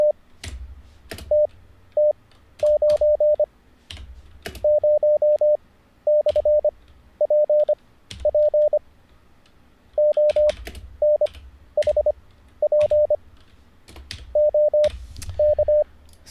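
Morse code practice tones from a Learn CW Online lesson: a steady mid-pitched beep keyed into short dits and longer dahs in clustered groups, clear and loud, with sharp clicks scattered between them and no talking.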